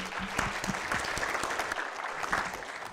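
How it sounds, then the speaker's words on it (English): An audience at a high performance computing conference gives a round of applause, sustained dense clapping with faint crowd murmur underneath. "I think that's actually worth a round of applause."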